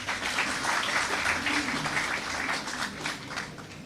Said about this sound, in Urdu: ان کے لیے زوردار تالیاں ہو جائیں.